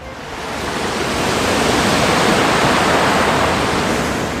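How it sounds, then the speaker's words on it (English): Ocean waves wash onto a beach in Nice, France, a broad continuous roar of surf that swells slightly and stays loud and close throughout, with no voices. "Now I'm just at the beach, just came over because it's just really beautiful."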